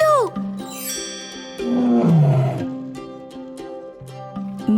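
Tigers roaring in a children's jungle-animal counting segment, several drawn-out, loud growling roars with bright chime-like tones ringing over them, near and prominent.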